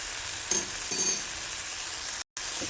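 Garlic powder sautés in a pan with a constant close sizzle, broken by a couple of soft utensil scrapes and a momentary dropout near the end.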